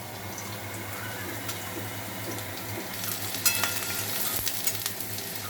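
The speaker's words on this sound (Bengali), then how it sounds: "এখন টুকরো করে রাখা আলুগুলোকে আমি ভেজে নেব।" Cut potato pieces fry in hot oil with a continuous sizzle and crackle, joined by stirring scrapes and louder spattering bursts toward the end; no voices.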